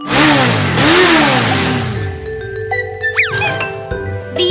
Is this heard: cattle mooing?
no